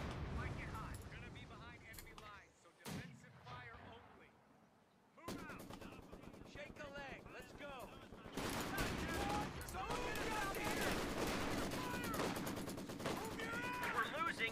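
Machine gun and battlefield gunfire in Company of Heroes 2 during a large 4v4 artillery-heavy match, with dense rattling bursts that thicken into continuous loud firing in the second half, and talk over parts of it.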